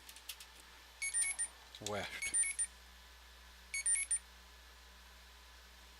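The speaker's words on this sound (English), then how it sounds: "My alarm's a little late to be going off, methinks." An alarm clock going off with short repeated bursts of high electronic beeps in three separated groups, moderately clear, while someone speaks briefly in between.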